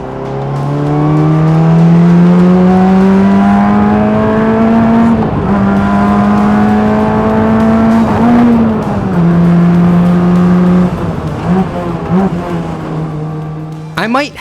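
Onboard engine of a budget Formula racing car on a track, a loud steady drone rising and dipping through gear shifts, with close wind and rumble throughout and a sharp knock at the end.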